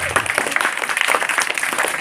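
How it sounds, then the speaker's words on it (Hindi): A crowd at a children's school event claps for the parents, a brisk, close burst of many hands that carries on steadily for a couple of seconds. "तो एक बार सभी माता पिताओं के लिए जोरदार ताली हो जाए।"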